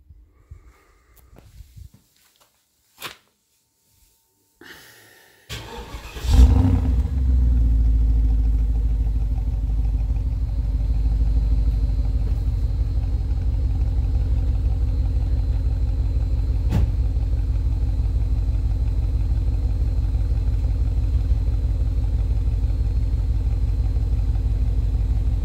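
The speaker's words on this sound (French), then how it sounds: "On va faire un petit démarrage à froid." A Porsche Cayenne Turbo, a 450 hp SUV with four exhaust tips, starts from cold after some quiet handling noises, catching with a loud burst and then settling into a steady, deep, rumbling idle that carries on for many seconds with no talk.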